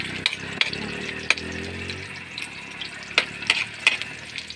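Ginger, garlic and onion sauté in a pan with a steady soft sizzle. Sharp clicks and scrapes of stirring break through at irregular moments.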